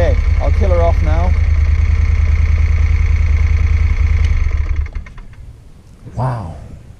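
A motorcycle engine idles with a loud, close, steady low rumble for about five seconds, then is switched off and fades out. A voice speaks briefly over the idle and again after the shutdown.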